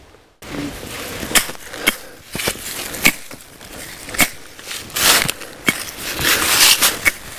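A Council Tool Wood-Craft 24-inch pack axe chops into privet hedge wood outdoors. About nine sharp, close woody strikes land at an uneven pace over a low background.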